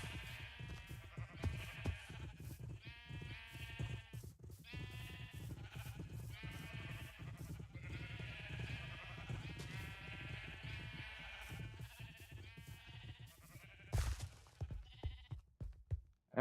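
Flock of sheep in a video game farm pen, bred and sheared in bulk, bleating over and over in dense overlapping calls that run almost continuously, loud and close, with no talking.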